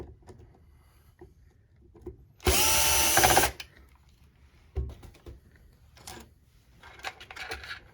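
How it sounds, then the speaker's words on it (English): A power drill whirs in one loud burst of about a second, unscrewing a current transformer from its mounting plate, surrounded by quiet clicks and small handling noises. "we're going to take our power drill and we are going to unscrew the current"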